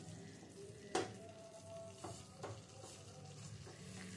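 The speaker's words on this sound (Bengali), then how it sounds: "এবার একটু মিশিয়ে নিচ্ছি।" Paneer pieces are stirred with spices in a pan over a soft sizzle, with a sharp utensil knock near the start followed by a few lighter scraping strokes, all fairly quiet.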